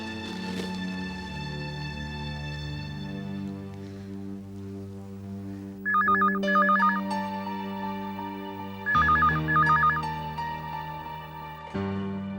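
An office telephone ringing on an outgoing call, two bursts of the electronic double ring a few seconds apart, heard over a sustained music bed.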